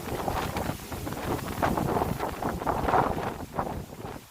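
Strong gusty wind at an outdoor market in Japan buffets the microphone in a continuous rough roar that swells and fades, with no voices.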